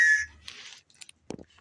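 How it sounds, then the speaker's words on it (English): A small plastic survival-kit whistle gives one short, shrill blast close up, followed by a breathy rasp and a few scattered clicks and knocks. "So we got a whistle."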